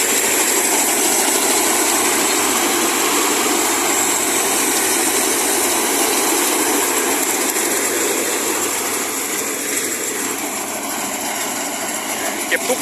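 Combine harvester engine running during the harvest of Hom Phuang No. 5 fragrant rice, a loud, continuous droning roar that holds steady throughout.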